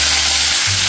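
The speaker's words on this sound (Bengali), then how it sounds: "দিয়ে এটা ফ্রাই করে নিতে হবে যতক্ষণ পর্যন্ত লালচে একটা কালার আসছে" Chopped onions frying in oil with bay leaf, chilli, cumin and cinnamon make a loud, continuous hissing sizzle, close up and unbroken, with no talk.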